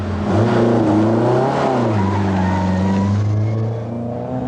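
A rally car from the 1989 Lombard RAC Rally passes the flying finish, its engine loud and close with rising and falling revs as it goes by, then fading slightly at the end.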